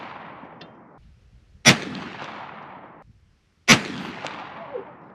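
Two sharp, loud muzzleloader rifle shots fired at a target about 75 yards away, spaced roughly two seconds apart, each with a long rolling echo trailing off outdoors.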